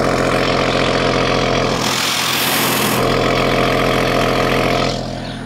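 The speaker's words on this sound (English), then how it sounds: "give you an idea just how good it sounds back here. The exhaust doesn't miss." A Chevrolet Trailblazer / GMC Envoy idles steadily at the exhaust, a loud, close, continuous low engine drone with an even rumble that eases slightly near the end.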